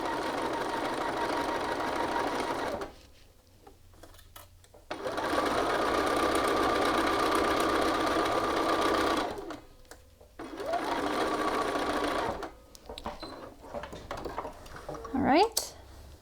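A sewing machine runs in three sustained bursts, stitching a yoke seam on an Archer button-up shirt back piece using the burrito yoke method, with short quiet pauses between runs and a brief handling rattle near the end.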